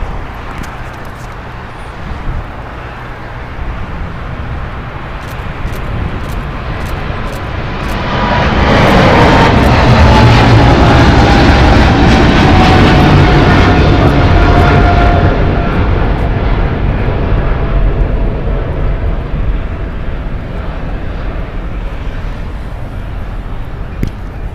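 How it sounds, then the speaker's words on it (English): A China Airlines Cargo Boeing 777 freighter departs, its engine roar swelling to a loud, broad rumble at mid-clip before easing off into a steady distant drone. "departing here is China Airlines Cargo Flight 5155 going to Osaka. It's a Boeing 777 freighter."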